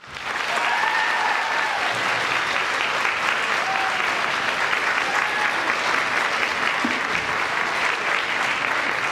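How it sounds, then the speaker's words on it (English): An audience bursts into steady, sustained applause, dense clapping that holds at an even loudness throughout. "Give me a grand applause."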